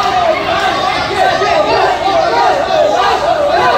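A crowd at a combat sports championship shouts and chatters continuously in a loud, echoing venue, with a commentator talking over the noise.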